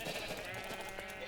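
Minecraft sheep bleat on a light blue wool farm, a wavering, nasal baa, fairly loud and close, with another overlapping faintly behind it.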